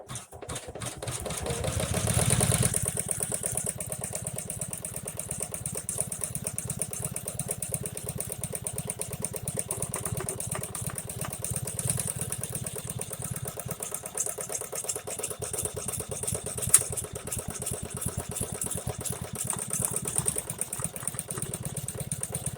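An embroidery machine stitches an owl wallet design, attaching the back to the front. It gives a steady motorized hum with rapid, continuous needle chatter that holds at an even level throughout.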